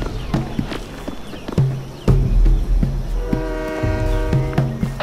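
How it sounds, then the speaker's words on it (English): A moving train in the Crysis Warhead video game rumbles along with rhythmic clanks of wagons and a sustained horn blast near the end, heard close and fairly loud. "Train's moving."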